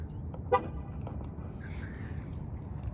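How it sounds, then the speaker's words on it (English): When the lock button is pressed, a Dodge Durango SRT gives a single short horn chirp, nearby but not loud, over quiet outdoor background noise. "This button actually locks the whole vehicle, so take a listen."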